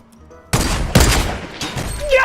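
Rapid bursts of gunfire in Fortnite shooting at a ramp, several loud close volleys after a brief quiet start, with a sharp peak about a second in and a faint voice in the background.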